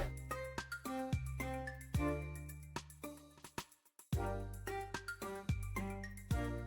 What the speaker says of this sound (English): that's the sound of my sister messaging me